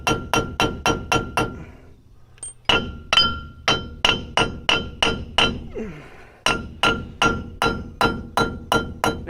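A hammer strikes a bolt held against a wheel stud to drive it out of a Chevy S10 hub, about two dozen loud ringing metallic blows in steady rhythm with a brief pause partway through.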